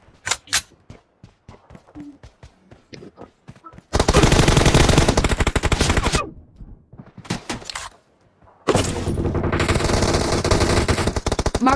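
M416 assault rifle fire in the mobile battle royale game PUBG / BGMI in a team deathmatch, loud sustained automatic bursts that break off twice with short gaps, after a stretch of quieter single clicks and game sounds.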